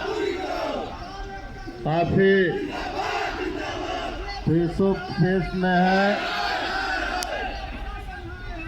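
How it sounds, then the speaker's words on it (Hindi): An agitated crowd at a riot-control drill shouts and chants in loud, rhythmic bursts of many voices, with someone speaking in between the outbursts. "लेकिन भीड़ और उग्र होती जा रही है"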